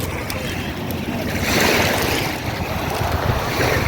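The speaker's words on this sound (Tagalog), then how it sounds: "Ang lakas ng hangin" Strong wind roars steadily across the microphone at a beach, with rushing water and waves underneath, loud and continuous throughout.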